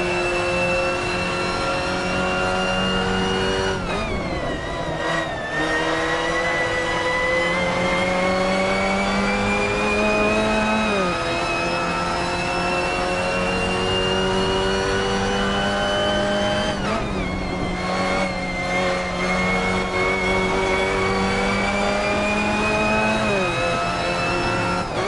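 A Mazda MX5 cup race car in Assetto Corsa racing at Highlands Short, its engine a loud continuous drone that climbs in pitch and drops at each gear shift, repeating through the clip without talk.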